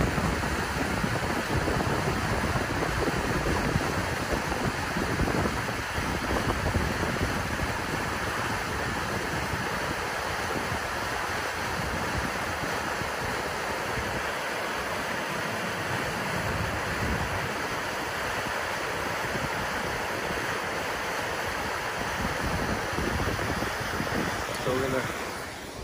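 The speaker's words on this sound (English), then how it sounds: "Wow, there's a huge flow of water coming out of here." A large flow of creek water rushes into Big Bear Lake, a loud, continuous roar of turbulent water heard up close for the whole stretch, with some wind noise.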